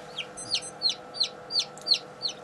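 Chicks and chickens cheep in a regular series of about seven high, short calls at roughly third-second intervals, fairly close, over a low steady background hum.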